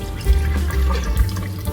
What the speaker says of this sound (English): I'm just going to throw the water off now.